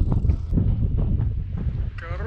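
Steady wind roars across a microphone while cycling through the desert, a dense low rumble that fills the whole stretch, with faint rustling and a brief tonal sound near the end.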